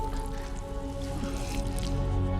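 Water drips from hanging ice in a fantasy story scene, soft irregular droplets and a light trickle over a steady low background hum, with no talk.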